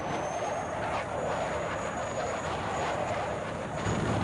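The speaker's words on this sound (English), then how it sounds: "That's a helicopter, right?" Helicopter flying in the video game Battlefield 6, a steady, fairly loud engine drone with a rough rotor texture sustained throughout, no talking.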